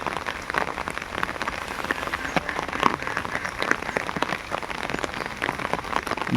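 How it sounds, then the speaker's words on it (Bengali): Steady rain falls onto a canal in the Sundarbans, giving a dense, even patter of drops hitting water. It holds constant throughout and nobody speaks. "বৃষ্টির দিনে বৃষ্টি পড়ছে দেখতে পাচ্ছেন"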